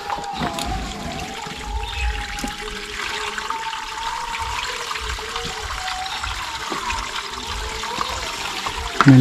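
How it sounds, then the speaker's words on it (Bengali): Water pours and trickles steadily out of a drum in an outdoor setting where fish are being sorted, a continuous rushing flow with faint background noise throughout. "ড্রাম পানি আছে, পানিগুলো বের করতেছে"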